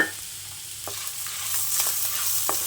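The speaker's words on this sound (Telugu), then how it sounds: "ఇప్పుడు ఇందులో కరివేపాకు, కొత్తిమీర వేసి వేయించేస్తాం." Steady, close sizzling of grated radish frying with curry leaves, coriander and turmeric in a pan, with soft stirring scrapes and occasional pops over a continuous hiss.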